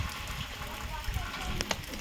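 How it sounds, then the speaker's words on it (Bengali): Rain falls outdoors during chili picking as a dense, steady patter with a few sharper drops, mixed with a voice talking nearby. "বৃষ্টি পড়ছে"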